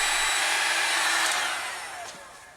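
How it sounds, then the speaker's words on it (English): A heat gun blows steadily and loudly while shrinking heat shrink tubing over soldered 18 gauge stranded wire joints for a 4Runner backup camera, its whooshing airflow tapering off toward the end. "seal them up with some shrink wrap and a heat gun"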